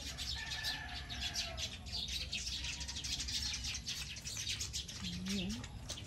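Many birds chirp and tweet while playing in a backyard guava tree in the province, with repeated calls throughout and people talking over them.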